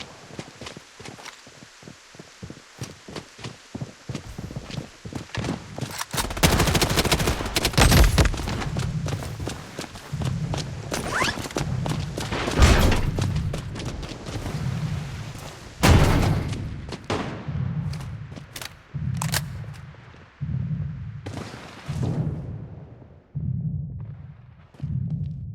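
Gunfire in the Blood Strike video game during a squad fight: bursts of sharp shots and heavier blasts come in uneven clusters, loudest in the middle stretch, amid thudding footsteps and a repeated rhythmic stomping beat that continues after the shooting thins out.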